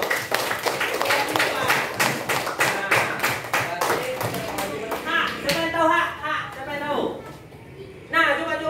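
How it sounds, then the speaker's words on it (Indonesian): A class of students claps hands together in a quick, regular rhythm for several seconds, then the clapping fades and a teacher's voice takes over. "Oke, tepuk tangan dulu."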